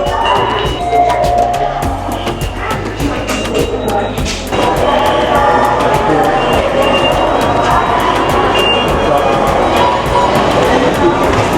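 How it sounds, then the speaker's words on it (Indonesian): Busy MRT subway station at Dukuh Atas during the evening rush, a steady dense hum of crowd murmur and train rumble filling the space with constant, fairly loud ambience and indistinct voices throughout. "Aku udah kembali lagi di stasiun MRT Dukuh Atas"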